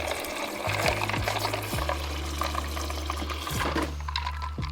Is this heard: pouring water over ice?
yes